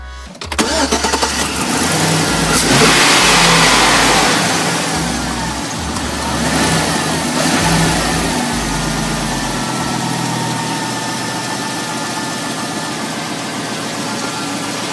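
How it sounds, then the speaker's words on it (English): Chevy Silverado 5.3 V8 engine in a 2006 pickup cranks and fires up, revs a few times with loud surging bursts, then settles into a steady idle, close by with no talking. "I'm going to start this engine up and let it run a minute."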